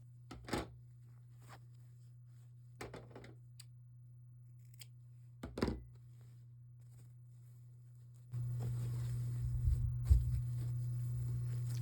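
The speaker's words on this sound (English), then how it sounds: "Now I'm just trimming the corners so that they'll turn through to a nice point." Scissors snip the fabric corners of a sewn sashiko pillow, with three separate close cuts spaced apart, followed by a steadier rustle of handling fabric near the end.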